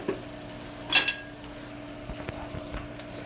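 A clean fork stirs food in a dish during breakfast preparation, giving a brief sharp metallic clink followed by faint scraping and light tapping against a quiet background hum.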